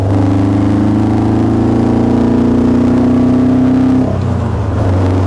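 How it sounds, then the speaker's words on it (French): A Westfield car's engine runs with a badly tuned carburetor and lost power, giving a loud, steady, close droning hum that drops in pitch and eases off near the end. "Là, on a une voiture qui a perdu de la puissance parce que le carburateur est mal réglé."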